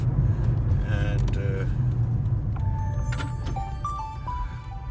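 Inside a moving Lexus hybrid car, a steady low road rumble runs throughout while someone talks over it, with a few light clicks and jingles near the end.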